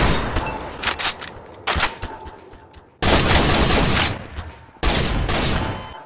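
PSG rifle gunfire in the Garry's Mod video game, loud bursts of rapid shots and crackling impacts in several separate blasts, close and harsh, with brief gaps between volleys.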